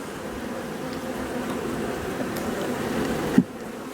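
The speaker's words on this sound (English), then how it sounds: "See, there's a bee right there" Honeybees buzz softly around an opened hive during an October inspection, a continuous faint hum with a brief knock near the end.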